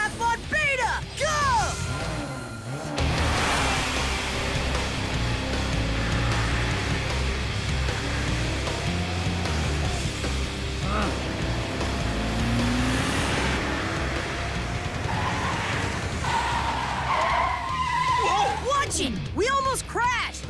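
Cartoon race cars, robot racers at a seaside race start, speed along and skid, their engines roaring continuously with brief tire squeals, while characters talk and shout over the racing.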